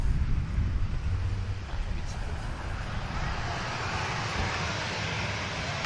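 A TUI passenger airliner passing at an airport, a loud broad jet roar that is strongest at the start and then settles into a steady wash, with a voice briefly over it.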